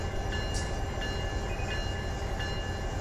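A train rolls forward in the Run 8 Train Simulator 3 game, with a steady low rumble and faint periodic rail clicks.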